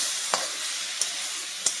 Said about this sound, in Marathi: टोमॅटो लाल होईपर्यंत चांगला परतून घ्यायचा आहे आपल्याला.